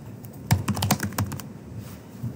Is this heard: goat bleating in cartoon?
no